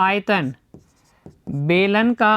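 Short scratchy strokes of writing on a board fill a brief gap in a math lesson, faint and quick, with a teacher's voice speaking before and after.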